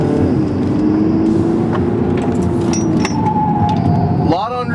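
An Audi A3 diesel driven hard around a lap gives a steady engine and road drone with rising tire noise, mostly continuous and close, ending in a brief squealing sweep near the end.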